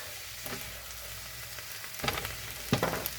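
Zucchini and pork stir-fry in a pan for a hoisin pork stir fry, sizzling steadily as the food is tossed, with louder bursts of frying and scraping when it is stirred.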